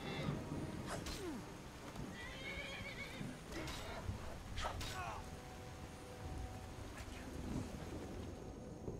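Horse neighing in the Skyrim video game, several whinnies rising above a soft low background with hoofbeats and outdoor ambience, moderately distant and not very loud.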